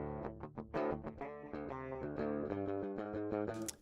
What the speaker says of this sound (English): We have got guitar distortion left and right.